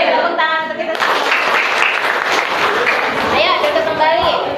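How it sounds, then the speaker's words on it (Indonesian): A group in a classroom or training session claps together in a loud burst of applause mixed with cheering voices and chatter, close by. "Tepuk tangan untuk kita semua."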